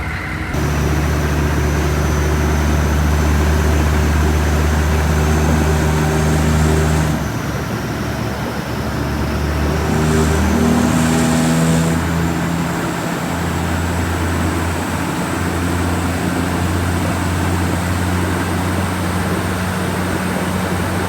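Turbo diesel truck driving while the engine warms up, a steady droning engine and road rumble with a shift in engine tone partway through and a constant interior hum, with no talking.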